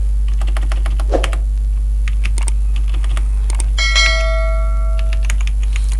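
Computer keyboard typing while entering text into an Excel spreadsheet, a run of light scattered key clicks over a steady low hum, with a brief chime-like tone partway through.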